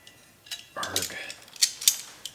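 Metal Allen wrench clinking and scraping against the fittings of a flour mill, a few sharp metallic ticks and rattles around a brief grunting voice, close and fairly quiet.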